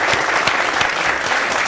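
A short burst of steady, dense applause from an audience, even and loud throughout with no voices above it.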